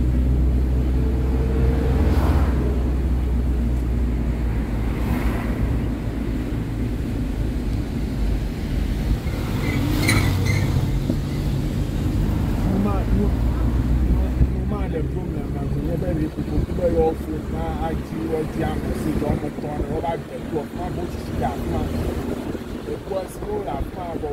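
A car cruises through the East Legon neighborhood of Ghana, steady engine and road rumble mixed with buffeting wind noise, with voices talking over it throughout.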